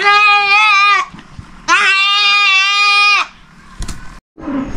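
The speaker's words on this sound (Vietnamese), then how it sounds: "Dê này thì cũng là dê giống, đây là một con cái với lại một con đực luôn cô bác" Breeding goats, a female and a male, bleat loudly and close by in two long, harmonically rich calls separated by a brief pause, with rustling and a short noise burst afterward.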